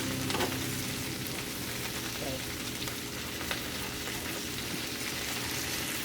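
Cabbage fries in a pan with a loud, steady crackling sizzle that holds throughout, with faint shuffling as the pieces are moved around.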